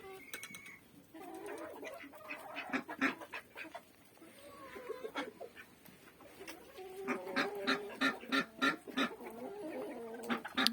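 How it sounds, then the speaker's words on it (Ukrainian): Domestic farmyard ducks, two hens and a drake, quacking and calling in bursts close by, with other poultry sounds mixed in and a busy yard chorus building toward the end. "Це в мене дві качечки і качур"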